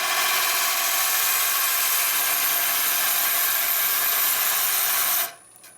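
A wood lathe tool takes a deep cut into a spinning maple burl bowl, giving a loud, steady broadband scraping hiss that holds continuously for about five seconds and then stops abruptly.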